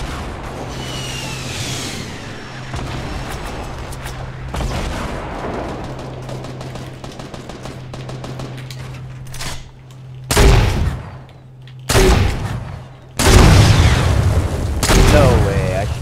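Gunfire in the video game Fortnite: several loud, close bursts of shots crack out in quick clusters over a steady game hum, with players talking throughout.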